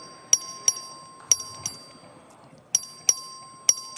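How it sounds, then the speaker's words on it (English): A bell rung by the clerk in a legislative chamber during a vote gives seven short, bright metallic dings in an irregular rhythm, clear and fairly close over a quiet room. "The clerk will ring the bell."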